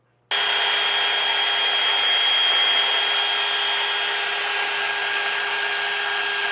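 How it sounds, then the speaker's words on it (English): A wire wheel spun by a drill scours the exposed bolt threads of a front sway bar link on a 1996-2020 Dodge Grand Caravan, a steady high-pitched whirring buzz that starts abruptly and holds loud and close to the end. "get the wire wheel on a drill, and we'll be cleaning these exposed threads out here"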